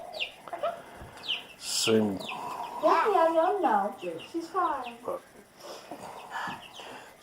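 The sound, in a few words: chickens clucking in pasture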